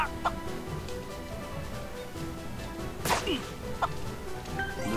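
Giant bird monsters fight in the video game Arc Rise Fantasia, with sharp whip-like swishes and strikes, a squawking cluck-like call and several short thwacks over a steady battle background.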